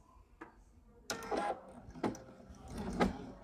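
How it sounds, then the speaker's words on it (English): A home sewing machine with a binding attachment stitches bias binding onto fabric in short, quiet bursts of whirring, three runs in all. A faint low hum of the room sits in the gaps between runs. "Then all I have to do is start sewing."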